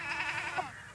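A goat gives one close, wavering bleat in a Nepali village herd, a single drawn-out call lasting about a second.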